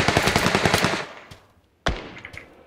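Rapid automatic gunfire in PUBG Lite on the Sanhok map, a burst of about a dozen close, loud shots, then a pause and a single sharp shot followed by a few fainter ones.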